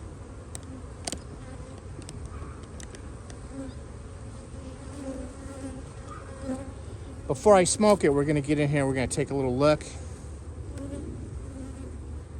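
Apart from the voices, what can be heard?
honey bees buzzing in a hive box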